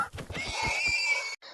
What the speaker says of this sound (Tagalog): may kabayo pa dito sa unahan kaya patayin ko na din